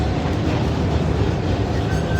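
A heritage tram rumbles steadily as it changes tracks, a dense close-up roar of wheels and running gear with no clear breaks.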